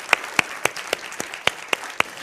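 A studio audience claps to welcome two guests on a Hindi political debate show: about eight sharp, separate claps, evenly spaced and fairly close, with no talking.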